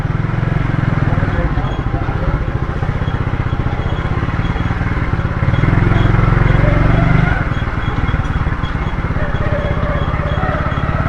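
A motorcycle engine hums steadily while riding on a route to an auto parts market, loud and close with a constant low drone that swells briefly in the middle.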